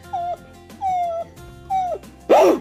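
A dog whimpers and yips in three drawn-out, whining cries with short pauses between them, followed by a louder, sharper yelp at the end, all close by.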